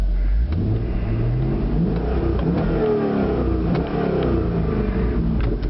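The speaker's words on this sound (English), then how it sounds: "Let's rev this thing up. It sounds like it, you just have to hear it." A 1999 Chevrolet Corvette C5 convertible engine revs up loudly and steadily, its pitch climbing and falling through several throttle blips, close and continuous with no talking.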